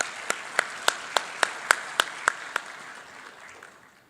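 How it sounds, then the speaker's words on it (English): Slow, spaced hand claps welcome a guest at an international arbitration conference, about nine distinct claps at a steady rhythm, fairly faint and fading into room noise. "Please welcome with a round of applause."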